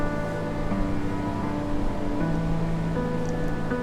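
Kozhippara waterfall near Silent Valley National Park in Kerala roars as a steady, loud, unbroken rush of falling water, with a sustained tonal drone layered over it.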